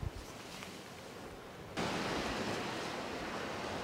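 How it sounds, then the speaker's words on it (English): Ocean waves on the shore of the Aran Islands at Inis Oirr in Galway Bay: a continuous broadband rush of surf that swells louder partway through, steady and enveloping, with no voices. "Complete silence apart from the waves and the seabirds."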